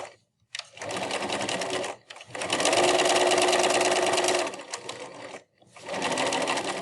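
A sewing machine stitches fabric for a face mask in close, steady humming runs, with a short burst, a long even stretch and another run separated by brief pauses.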